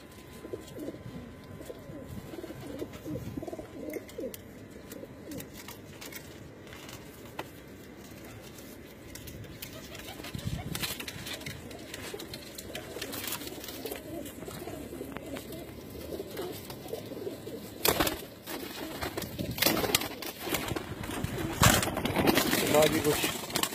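Pigeons coo softly and continuously among flutters and rustles, with people talking nearby over the birds.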